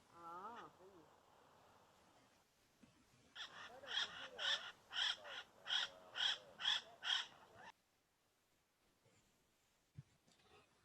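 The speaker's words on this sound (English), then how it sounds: "There are the parrots up there." Parrots up in the trees let out a run of about eight loud, evenly spaced harsh squawks, preceded by a brief voice and followed by near quiet.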